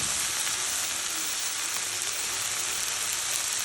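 Broad beans sizzling in a hot pan as they are added a little at a time for a home-style curry, a steady close frying hiss with no voices.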